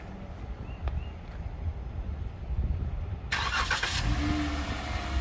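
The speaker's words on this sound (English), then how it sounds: "After about 5 seconds, we'll hear the car start up." A 2017 Dodge Challenger starts by remote start: faint quiet background, then the engine fires abruptly partway through and settles into a steady idle rumble.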